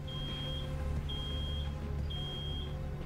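In the video game Road 96, an alarm beeps in three steady, evenly spaced high-pitched tones over a low, constant hum.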